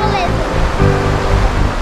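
Salto do Sucuriu, a 64-metre waterfall, thunders as a loud, constant roar up close, with wind gusting through and excited voices talking over it.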